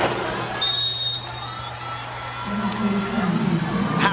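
A packed volleyball finals arena, Choco Mucho against Creamline before more than 23,000 fans, roars with a steady, distant crowd cheer that swells late, while commentators talk over it.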